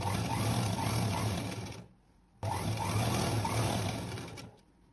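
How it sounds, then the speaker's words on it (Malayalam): An electric sewing machine stitches kaftan nightie fabric in two steady runs of rapid, even needle chatter, close and loud, separated by a brief pause; no talking. "അപ്പോൾ നമുക്ക് ഇത് തയ്ച്ചെടുക്കാം."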